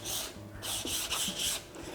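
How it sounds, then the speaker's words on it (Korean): Sandpaper rubbed along the grain of a wooden piece in a woodcraft workshop, with four quick rasping back-and-forth strokes in steady rhythm, close and fairly soft. "결 무늬로 반드시 사포질 해주시는 게 중요합니다."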